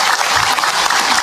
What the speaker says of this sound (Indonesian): Tepuk tangan buat ibu-ibu yang sabar.